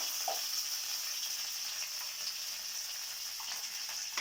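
Cumin seeds sizzle in hot oil with curry leaves for a pumpkin curry, a faint, steady frying hiss broken by a few small pops and crackles, with no voices.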